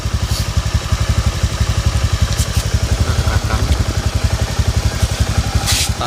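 Automatic scooter engine idling with a strange rattling fault, a loud close rapid pulsing clatter that stays steady throughout with no talking.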